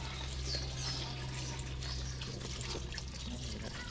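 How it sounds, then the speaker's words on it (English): Water flowing and trickling into a garden pond outdoors, a steady close wash of splashing with a low hum underneath and faint birds in the background. "You guys hear the sound of the water?"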